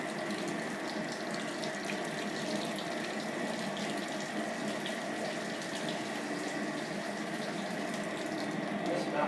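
Water runs steadily from a tap during a home brewday for a Brewdog IPA, a constant close hiss and splash that holds evenly throughout.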